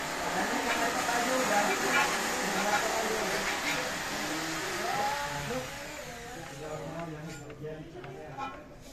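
A Panther 2.3 engine idles roughly, its rumbling uneven and loud throughout, its tone shifting slightly near the end, with no talking.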